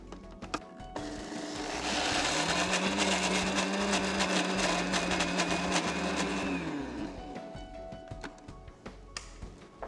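A kitchen blender grinds onion paste for Lucknow-style nalli nihari, starting with a surge and whirring loud and steady for several seconds before winding down, with clicks and handling noises before and after.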